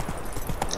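Horse hooves gallop in The Witcher 3 video game, a brief, quick run of muffled hoofbeats heard close over a steady game background.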